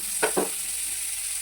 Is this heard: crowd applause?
no